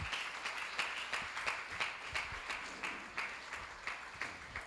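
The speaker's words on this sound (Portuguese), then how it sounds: "Aplauda o Senhor" A church congregation at a healing service claps in praise, rhythmic group clapping with a steady beat roughly every half second, moderately soft and continuous.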